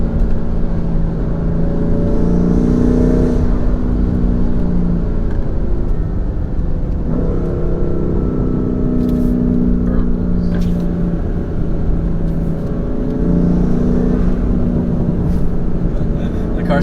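BMW F80 M3 with new intakes building turbo spool under steady loud engine drone, rising and falling in pitch over several pulls, with faint blow-off valve hiss between them and people talking over it inside the cabin.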